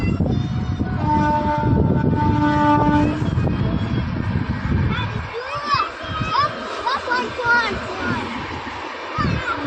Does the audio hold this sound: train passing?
yes